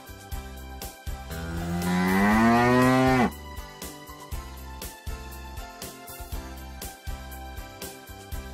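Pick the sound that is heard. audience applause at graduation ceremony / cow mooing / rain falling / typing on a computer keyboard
cow mooing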